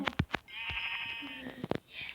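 Sheep bleat in a video game in a couple of wavering cries, mixed with quick bursts of nearby talking.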